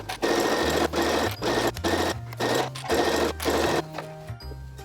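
Sewing machine running in bursts while stitching a reversible bucket hat around a 3/8 seam allowance, the motor stopping and starting every half second or so with sharp pauses, close and loud, no talk.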